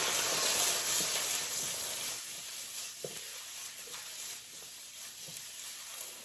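Eggplant cooking in avocado oil with salt and pepper sizzles steadily in a pan, a broad soft hiss with a few light clinks and stirs as it is mixed and shaken.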